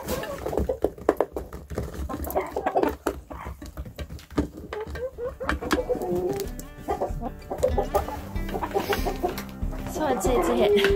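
Backyard chickens cluck and murmur steadily while pecking at a homemade suet cake on a tray, with busy pecking patter throughout and a person speaking over the flock at times.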